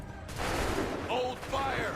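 Musket volley gunfire in the video game Assassin's Creed 3, a dense ragged burst of many shots fired together, loud and booming, followed by rolling echo, with a shouted command from soldiers.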